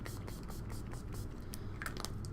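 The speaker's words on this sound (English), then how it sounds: "starting out with the Scandinavia, the makeup primer spray. I'm just going to be spraying that all over my face." Makeup primer spray misted all over the face in a series of short hissing bursts, close and fairly quiet, with no talking.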